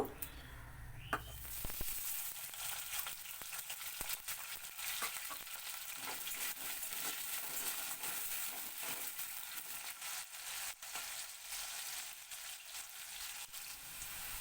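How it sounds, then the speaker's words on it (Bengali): Small cut pieces of fresh potato hit hot oil with a sharp initial splash, then settle into a dense, steady sizzle that crackles on close by for the rest of the stretch. "এই আলুটাকে আমি এই তেলে দিয়ে"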